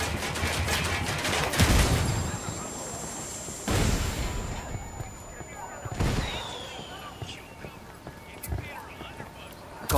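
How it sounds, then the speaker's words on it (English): Mortar and gunfire in Ghost Recon Wildlands: several heavy booming impacts spaced a couple of seconds apart amid scattered shots, with voices talking over the battle. "I called Pakatari for some mortar fire."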